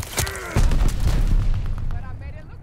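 Grenade explosion in Call of Duty: Vanguard, a loud booming blast with debris and rumble under voices and game chatter.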